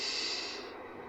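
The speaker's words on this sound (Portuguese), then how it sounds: "Você pega e respira." A single deep breath drawn in slowly and steadily through the nose, close and fairly loud, with a soft airy hiss that gradually fades, and no talking.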